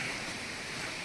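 Water from an outdoor waterfall near Butterfly Beach in Goa rushes in a steady, fairly faint, broadband roar for about a second, with no voices.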